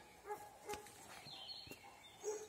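Dogs barking from a village below a Carpathian mountain forest, faint and distant yips and short barks repeating a few times over quiet outdoor background.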